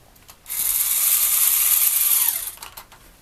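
A small electric motor on a motorized Lego tow truck whirs loudly and evenly for about two seconds while raising the tow bar, then winds down, with a few clicks just before and after.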